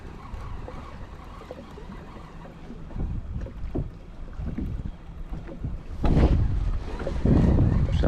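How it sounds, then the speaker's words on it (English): A motorboat passes somewhere behind an angler on a lake, a low wash of engine and water that swells near the end over light wind noise, with no talk. "Sounds like there's a boat behind me"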